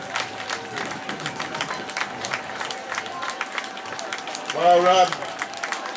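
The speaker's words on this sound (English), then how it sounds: "Round of applause, ladies and gents." Spectators at the Frenchay 10k road race clap for a finishing runner with a scattered, steady patter, while a voice speaks over the applause near the end.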